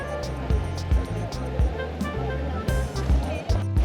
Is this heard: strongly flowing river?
yes